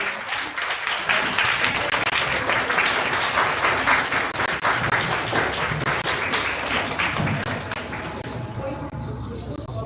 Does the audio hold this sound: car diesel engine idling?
no